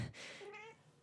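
A long-haired black cat gives a single short, drawn-out meow outdoors, close and fairly soft, with no other sounds around it.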